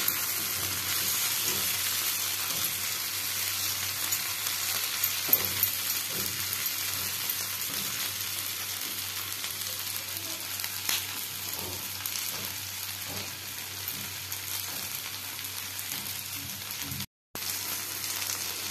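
Okra and tomato frying together in a pan, a steady, close sizzle that carries on throughout with occasional soft stirring clicks and a brief dropout near the end.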